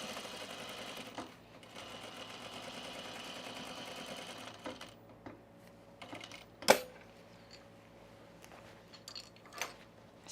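A home sewing machine stitches across the bottom of a pocket on partner overalls, a steady quiet whirring run that stops midway, followed by faint clicks and handling noises.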